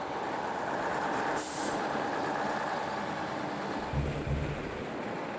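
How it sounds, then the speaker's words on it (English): An articulated lorry weighing 35 tons labours up an icy hill on a Russian ice highway, its engine droning steadily and loud throughout, with a brief hiss near the start and a couple of low thumps toward the end. "they start a second attempt at getting the articulated lorry across the hill"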